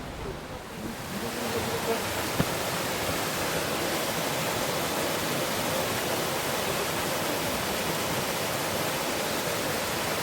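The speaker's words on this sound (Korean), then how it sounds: "아, 시원하게 물 쏟아진다" Seryeom waterfall on a Chiaksan mountain trail pours in a continuous broadband roar, moderately loud and even throughout, with no talk over it.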